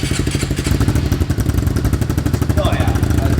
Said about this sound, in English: She's got a little purr to her.